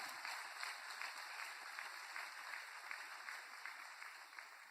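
Steady crowd applause in a church service, dense clapping throughout, moderately loud and sustained without a break, no voices standing out.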